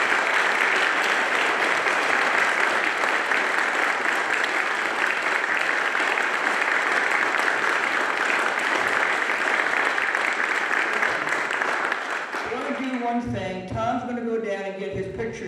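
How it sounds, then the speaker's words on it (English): Sustained applause from a large crowd at a Hall of Fame induction ceremony, steady and loud for most of the stretch, then fading as voices begin to come through near the end. "let's give these men a round of applause again"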